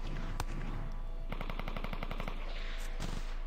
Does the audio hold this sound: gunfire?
yes